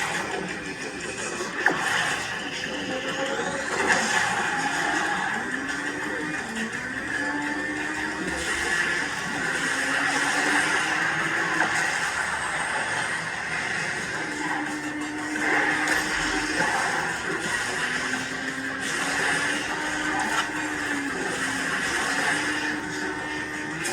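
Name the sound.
car racing sounds from the video game Asphalt 9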